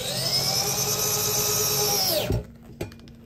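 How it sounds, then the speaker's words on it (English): A power drill driving a self-drilling sheet metal screw, a loud steady whine that cuts off abruptly at about two seconds, followed by a couple of faint clicks. "For that, we just use a self-drilling sheet metal screw."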